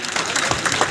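Applause for students at a community award ceremony in Lalsot, with a dense, steady patter of many hands clapping together across the moment, fairly loud and continuous.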